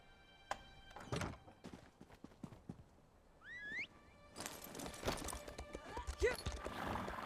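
A horse in The Elder Scrolls Online gives a brief whinny amid thudding hoof-like clops and heavy thunks, fairly quiet, followed by a louder burst of game noise.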